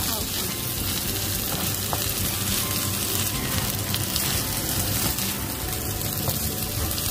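Glass noodles with egg and bamboo shoots stir-fry in a hot pan, giving a loud, dense, unbroken sizzle close up, with faint stirring scrapes inside the constant hiss.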